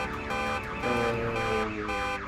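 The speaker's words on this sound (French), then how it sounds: "Tu rebranches la batterie, l'alarme se remet à sonner." A car alarm sounds again after its battery is reconnected in a horror role-playing game, a loud repeating electronic siren cycling through rising and falling tones steadily for the whole stretch, with no voices over it.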